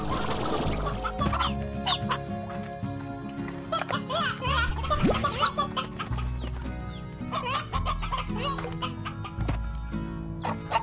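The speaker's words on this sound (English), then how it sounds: "this is an elder hen." Elder hen clucking in the Slime Rancher video game, chicken-like clucks and squawks recurring over a busy game soundtrack, with someone talking at times.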